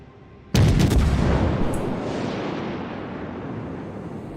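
Heavy naval guns fire in a warship video game, aimed at a Leander cruiser: one sudden, loud booming salvo that rumbles and slowly decays over several seconds.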